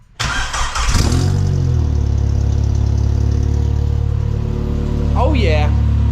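A Jeep's 2.5-liter engine, newly fitted with a fresh exhaust, cranks and fires up, then settles into a loud, steady low idle that holds to the end, with a brief voice near the close.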